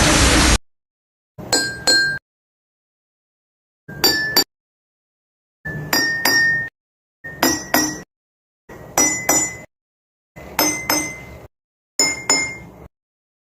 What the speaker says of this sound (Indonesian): menggunakan sendok, di mana pada gelas-gelas ini sudah terisikan air, dan kita akan memukul setiap gelas yang sudah kita tentukan hurufnya